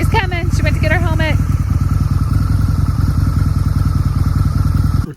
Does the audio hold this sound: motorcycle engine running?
yes